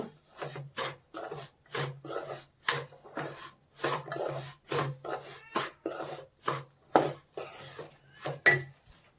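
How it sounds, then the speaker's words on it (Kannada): Powdered rice is stirred into a pan while making rice barfi, giving a series of rhythmic scraping strokes of a spoon against the pan, about a dozen regular close rasps with short gaps between them. "ಈ ಥರ ಎಲ್ಲ ಕ್ಲೀನಾಗಿ ಮಿಕ್ಸ್ ಮಾಡ್ಕೋಬೇಕು"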